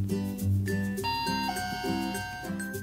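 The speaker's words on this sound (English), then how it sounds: "I'll ring the doorbell." A toy house doorbell from a Peppa Pig Weebles playset chimes an electronic melody, several clear tones in sequence, close and fairly soft.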